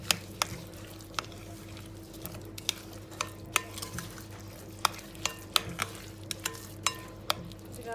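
A spoon works through cookie dough studded with hazelnuts and walnuts in a bowl, producing repeated sharp clicks and taps of utensil against the bowl over a soft, steady low hum, close and fairly quiet, with nobody speaking.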